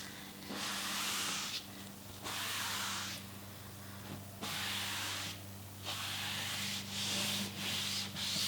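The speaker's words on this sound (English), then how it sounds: "I'm just gonna take a rag and I'm just gonna wipe off any excess on the surface" A rag rubs in long, steady back-and-forth strokes across an oak cabinet surface, wiping off excess pre-stain. Each close, hissy swipe is separated by a brief pause, and no one talks.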